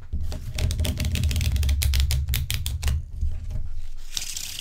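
Old Bicycle playing cards are riffle shuffled, giving a rapid dense flutter of flicking card edges that ends in a brief bridge and a crisp snap, close and clear with no talking.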